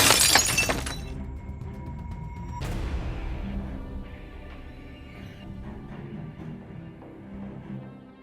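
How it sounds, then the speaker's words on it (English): Front glass of a nail salon smashed during a 4 a.m. break-in: a loud, sudden shatter, a second crash, then a long tail of tinkling, settling shards. "Breaking into a family-owned nail salon at 4 a.m., smashing the front glass"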